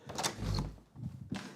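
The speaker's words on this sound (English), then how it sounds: "He's coming through the hallway door." A hallway door in a home opens or closes with a rumbling swing and thud, followed by a second softer knock or latch sound, close by with no talk.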